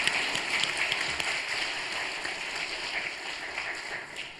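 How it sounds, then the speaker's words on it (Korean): Congregation clapping in thanks to Jesus Christ during a church revival meeting: a steady, hissing wash of many hands clapping together, moderately loud and sustained for several seconds, with no talk over it. "우리 그분께 감사의 박수 한번 칩시다"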